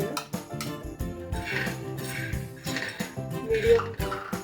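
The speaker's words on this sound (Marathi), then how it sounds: "आधी आपण शेंगदाणे भाजून घेऊया।" Peanuts dry-roast in a pan over medium heat for green chilli thecha, giving off a close run of rattling, clinking scrapes and stirs in an uneven rhythm, with no talk.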